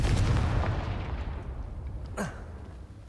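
The Confringo explosion spell goes off in the PS4 game Hogwarts Legacy: a rumbling, booming blast decays over a few seconds, then a brief whooshing burst follows.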